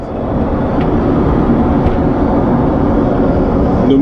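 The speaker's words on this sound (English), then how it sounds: "12 hours after, still in the plane, I am in the toilet." Inside an airliner's toilet during a long flight, a loud, constant broadband roar of cabin and engine noise fills the small space, steady and unbroken with no voices.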